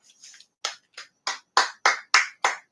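A small two-finger clap repeated in a quick, light series of about nine sharp taps, close and crisp, with a few softer ones at the start.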